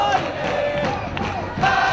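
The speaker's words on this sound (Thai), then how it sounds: "ทองเชียร์ก็เฮฮากันแล้วครับ" Thai football fans roar and cheer in a stadium after a goal from a free kick, a loud, dense crowd din that rises again near the end.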